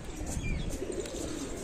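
Sialkoti pigeons coo softly in low, rolling murmurs, close by, with faint bird chirps and background noise around them.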